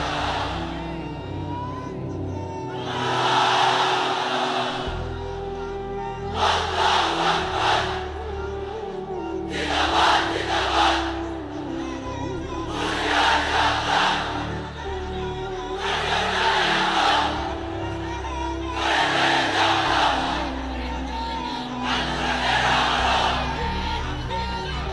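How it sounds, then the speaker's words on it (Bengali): A large crowd under a pandal at an Islamic waz mahfil shouts the takbir chant in about seven loud, roaring bursts spaced a few seconds apart, answering a leader's calls over a steady background hum. "এক একটা তাকবীরে যাতে এই প্যান্ডেল কেঁপে ওঠে।"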